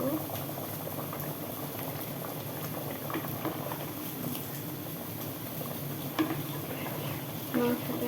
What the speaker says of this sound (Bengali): মাংসের পানি উঠছে অনেক